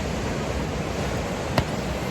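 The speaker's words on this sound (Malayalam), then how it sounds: "കടൽ നോക്കിയിരിക്കാം, തിര എണ്ണിയിരിക്കാം കേട്ടോ" Sea waves wash along a beach as a steady, broad roar of surf, close and constant, with a single short sharp click partway through.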